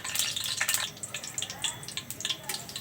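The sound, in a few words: bay leaves frying in mustard oil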